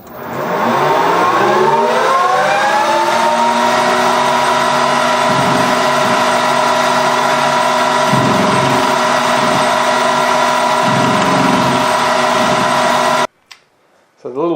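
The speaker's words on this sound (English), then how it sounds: "the little carbide insert just made it through and machined all four of our exhaust flanges" Carbide insert taking an interrupted cut on four exhaust flanges for an Alfa 105 extractor repair, a loud steady lathe whine with rising harmonics at the start and periodic low thumps throughout, ending abruptly.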